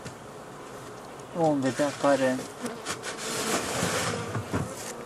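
Honey bees buzz around a hive during pollen harvest near rapeseed fields, a continuous close drone that runs under someone speaking briefly.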